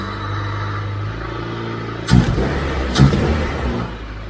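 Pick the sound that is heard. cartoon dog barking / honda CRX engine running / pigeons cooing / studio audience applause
honda CRX engine running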